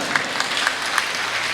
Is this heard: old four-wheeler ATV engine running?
no